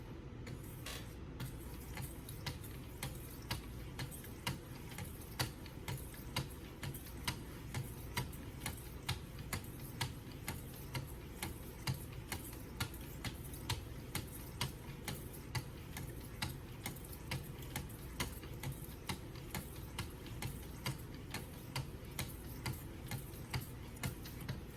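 A Hampton Forge knife is sharpened on a 2,000 grit whetstone with faint, evenly spaced scraping strokes that repeat roughly once a second in a steady rhythm over a quiet background, with no talking.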